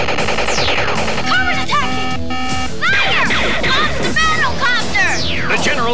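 A G.I. Joe General toy battle fortress plays electronic battlefield sounds, loud and continuous: rapid synthetic gunfire bursts, rising and falling laser-like whistles and warbling tones with a voice mixed in.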